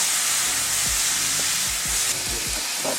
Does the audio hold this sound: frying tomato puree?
yes